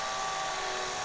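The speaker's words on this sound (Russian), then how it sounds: "Теперь вкрутим саморез, соединим бедра с туловищем." A power screwdriver drives a self-tapping screw into a handmade fabric hare, joining its thighs to the torso. The motor gives a steady, fairly quiet high whine that runs unbroken throughout.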